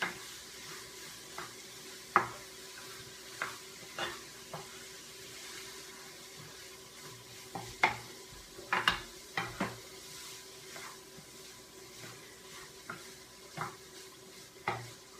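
Food being stirred in a pan during a low-GI recipe demonstration, irregular scraping and clinking strokes over a quiet sizzle, with no voices.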